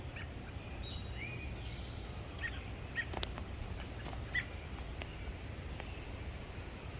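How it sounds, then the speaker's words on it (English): Faint bird chirps and short calls come through now and then in a morning garden with a mulberry tree, over a low, steady background hum. "you see the birds. I guess they say it's breakfast time."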